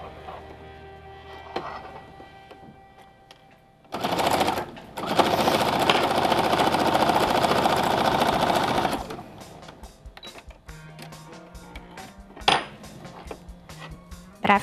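A sewing machine stitches around the edge of a fabric piece in one loud, steady run of about five seconds, set between quieter handling clicks and taps of the fabric and machine.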